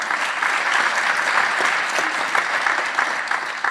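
Audience applause at a museum talk, a steady wash of many hands clapping at moderate loudness, holding evenly throughout.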